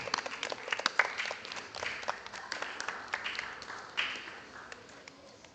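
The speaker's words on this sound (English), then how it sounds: "A round of applause for Miss Esdell." An audience at a primary schools quiz event gives scattered, fairly sparse applause for the credit union manager, individual claps audible, moderate and slightly distant, tapering off toward the end.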